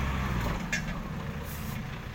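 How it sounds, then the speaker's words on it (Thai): A six-wheel dump truck idles with a steady low engine rumble while short hisses of its air brake release at intervals, close by at a site filling an old pond. "เสียงเบรกเร้าใจเหมือนกันนะครับ"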